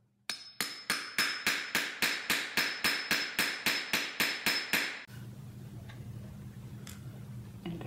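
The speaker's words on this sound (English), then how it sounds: "take a hammer and start beating it up" A hammer strikes shade cloth fabric repeatedly in a fast, even rhythm, about fifteen sharp blows, then stops, leaving a quiet room hum.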